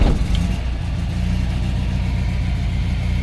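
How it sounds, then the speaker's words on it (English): A motorhome's generator engine runs after catching, settling into a steady, loud, low mechanical drone that holds evenly throughout with no voices. "So then up here is the generator, which we just checked the oil on."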